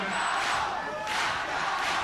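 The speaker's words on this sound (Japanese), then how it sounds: "中野コールをお聞きください。" A large pro wrestling crowd at a 1989 All Japan event chants a new champion's name and roars in unison, a dense sustained wall of voices rising and swelling in waves.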